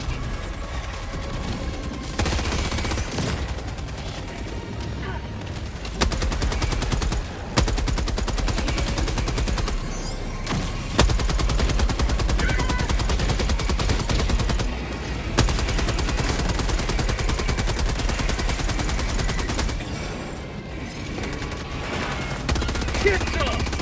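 Sustained automatic fire from a rifle fitted with a vertical grip and flash hider in the Helldivers video game, loud and rapid bursts with brief pauses in between, alongside other battle noise and voices.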